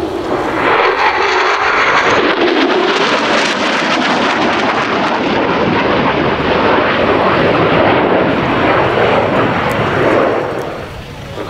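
Loud, continuous roar of a Qatar Air Force F-15QA fighter jet with conformal tanks during an air show flying display, a broad rumbling jet noise that stays steady throughout and eases slightly near the end.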